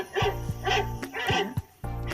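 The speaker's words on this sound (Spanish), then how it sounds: "Perro" A dog barks four or five times in quick succession, close and fairly loud, with no talking.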